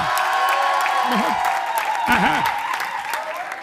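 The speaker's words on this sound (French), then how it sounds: "Applaudissez pour les éaïstes." A comedy show audience breaks into sustained applause with scattered cheers, while a voice sings or calls out briefly over the clapping crowd.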